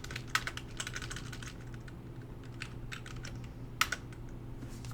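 Fingers type on a Dell computer keyboard, producing quiet bursts of rapid key clicks with short pauses and a couple of sharper taps.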